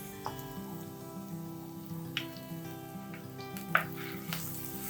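Grated ginger and slit green chilies sauté in a pan for a spicy coconut-milk fish curry: quiet steady sizzling with occasional spits and pops over a faint background hum.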